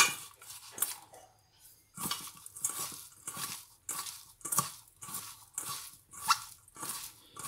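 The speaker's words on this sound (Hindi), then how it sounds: "अब इनको मिक्स करेंगे। तो मैं यहाँ इसको अच्छी तरह मिक्स कर लूँगी।" Chopped green onion and salt being stirred together in a bowl for green onion paratha, giving a steady run of close, rhythmic clinks and scrapes against the bowl with short pauses and no talking.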